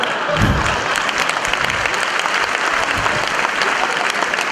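A stand-up comedy audience claps, a dense, loud burst of applause that sustains evenly for several seconds without voices on top.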